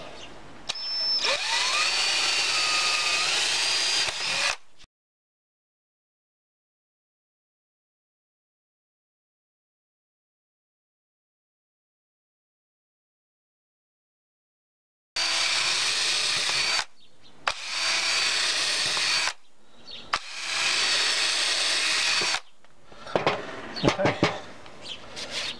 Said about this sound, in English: that's all of our holes drilled.